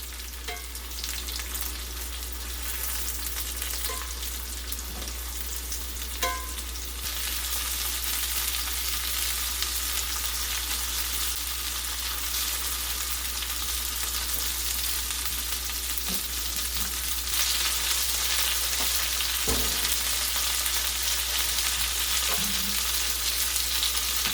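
Breaded chicken cutlets seasoned with oregano fry in oil in a skillet, giving a steady, loud sizzle and crackle that runs the whole time with a few soft clinks and bumps as they are flipped.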